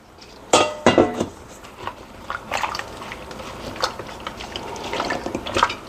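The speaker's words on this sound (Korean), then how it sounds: "그리고 이제 물을 넣으시면 될 것 같아요" Water splashing into a pot of vegetables for a chicken breast soup, with clattering knocks at the start and then a running, gurgling pour nearby, no voices.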